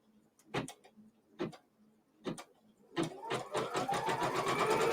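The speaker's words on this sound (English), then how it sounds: "So it is just stitching out my main border." A sewing machine stitches the main square border of a quilt block: a few separate bursts of needle clatter, then a steady, close, running mechanical whir that builds and continues to the end.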